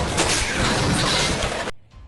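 A car slams into another car in a film scene from Arena (2011), a loud dense crash of metal and debris that roars steadily before cutting off abruptly into quiet.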